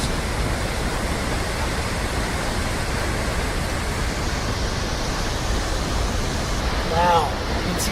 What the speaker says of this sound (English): heavy rain can temporarily transform the landscape into a series of powerful waterfalls